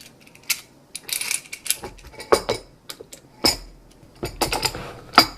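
Screws driven by hand back into the housing of a tufting gun, heard as a scatter of short metallic clicks and ratcheting scrapes spaced irregularly, close and fairly quiet.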